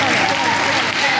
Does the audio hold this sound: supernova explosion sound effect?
no